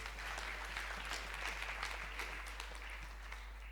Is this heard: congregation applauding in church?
yes